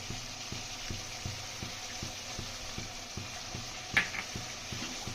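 Chicken stirred in a pan with ginger and green chilli while cooking in its own juices: a steady rhythmic scraping of the spoon with a soft sizzle underneath, close but quiet, with one brief sharper clink near the end.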